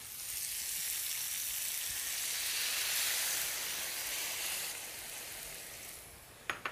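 White wine hits a hot pan holding artichoke hearts, sun-dried tomatoes and capers, giving a steady, close sizzling hiss that holds evenly and fades slightly before a couple of sharp clinks at the end.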